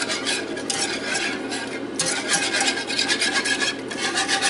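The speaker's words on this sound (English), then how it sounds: "Let me get my whisk. Save me from making that big of a mess." A whisk scrapes and rasps rhythmically against a pan while stirring cream gravy made with barley flour, steady and close with fast repeated strokes and a faint sizzle underneath.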